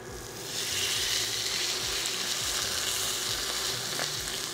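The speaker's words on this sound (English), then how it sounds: "all we wanna do is basically just sear this steak" Steak searing in olive oil in a hot pan, a loud, dense, steady sizzle that rises in the first second and holds close and unbroken.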